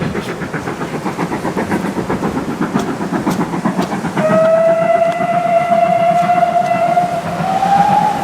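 A steam locomotive on the Keighley & Worth Valley Railway rumbles past during a spring steam gala, its rhythmic chuffing and clatter close by, then a long, loud whistle blast sounds over the passing train.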